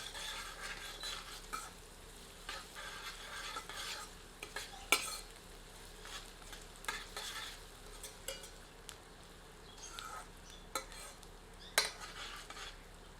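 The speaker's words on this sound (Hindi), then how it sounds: "प्याज को मध्यम आंच पर पारदर्शी दिखने तक भूनते हैं" Onions frying in a pan over medium heat: a quiet, steady sizzle with occasional spoon-stirring scrapes and light metallic clicks against the pan, with no one talking.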